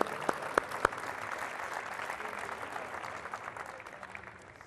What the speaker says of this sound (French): Si vous pouvez les applaudir